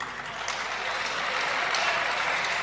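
An audience at a Hindi devotional discourse breaks into applause, a sustained, even patter of many hands clapping, fairly close and continuous.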